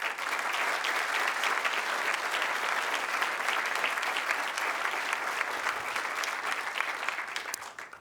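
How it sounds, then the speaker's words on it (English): Ceremony crowd at the Bond University film and television awards gives finalists a sustained, full round of applause, a thick continuous wash of clapping from a large room that fades near the end. "So let's give each of these 4 final finalists a massive round of applause"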